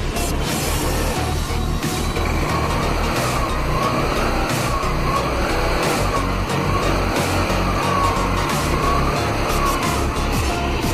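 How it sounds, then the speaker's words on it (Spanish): An Italika W150 motorcycle engine runs continuously at a steady idle, loud and close, with a constant low rumble and a faint wavering tone throughout and no talking. "Ese es el sonido de la moto."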